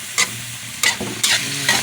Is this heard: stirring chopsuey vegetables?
yes